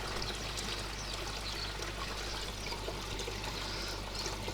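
Pond water gushes and trickles steadily into a container from a koi pond setup, a continuous, close, loud rushing pour with a low hum beneath and no talking.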